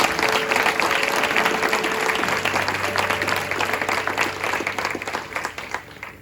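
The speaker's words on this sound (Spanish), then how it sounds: "Y puedes darle un fuerte aplauso a Jesús en esta mañana." A church congregation at a morning Spanish-language service breaks into strong applause, dense and sustained clapping that gradually thins and fades over the last couple of seconds.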